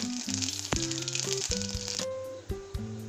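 Mustard seeds pop and crackle in hot oil in a wok while tempering for a bitter gourd dish, giving a busy rattling sizzle with sharp, irregular pops close by.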